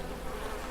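Bees at a beehive in the farming video game Farmers Dynasty make a brief, continuous, close buzzing drone at a steady level.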